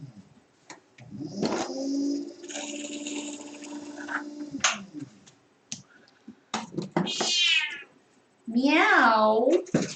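Several drawn-out cat meows in a pottery studio during a live stream, some long and wavering, others rising and falling, with quiet talk in between and faint clicks in the background.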